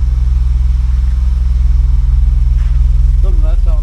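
A 1985 BMW 635CSI idles while warming up, a loud close rumbling engine with a steady pulsing beat throughout, and a voice speaks over it near the end.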